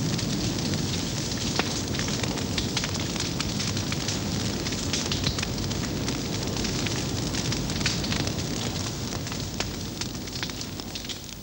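Bushfire burning during a backburn in the Australian bush, recorded in 1978 in the Corryong district: a steady, loud roar of flames with dense crackling and popping throughout, no voices.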